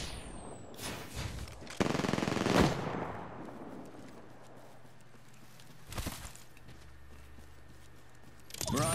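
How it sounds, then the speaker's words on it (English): Gunfire in a shooter video game, with a loud burst of rapid shots, a few sharp single cracks later on, and game effects in between, with no talking. "Shots fired."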